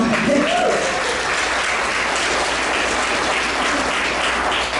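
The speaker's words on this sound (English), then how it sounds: "yes, that's an applause" Steady applause from a crowd, dense and continuous clapping throughout at an even level.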